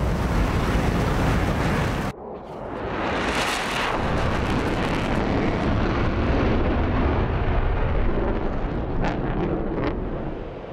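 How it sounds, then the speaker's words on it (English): An air-to-air missile launches from a jet in the DCS World flight simulator, a rushing whoosh that swells over a loud, continuous roar of engine and wind, which carries on steadily afterward. "And then I'm gonna shoot a missile at him."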